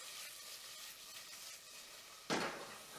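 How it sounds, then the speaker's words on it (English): Food is tossed in hot oil in a home kitchen while a curry is being made. A soft, steady sizzle runs throughout, then a sudden louder burst of frying near the end. "I'm just going to give this a quick toss in the oil."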